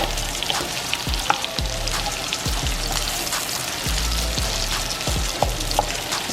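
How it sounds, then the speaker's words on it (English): Shrimp frying in a pan at home while dinner is cooked, with a steady close sizzle and crackle throughout and scattered sharp pops and spatters. "Over there frying, looking good."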